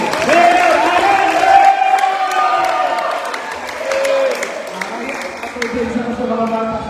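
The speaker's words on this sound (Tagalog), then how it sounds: "Palakpakan po natin, nakasan yung palakpak" A crowd greets Mayor Alan with loud, sustained applause and cheering at a gathering, dense clapping that holds steady throughout while voices shout and whoop over it.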